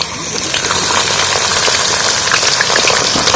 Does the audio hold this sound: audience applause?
no